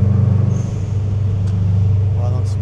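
A Subaru WRX drives through a tunnel, its engine a loud, steady low rumble heard from inside the cabin, with people talking over the drone.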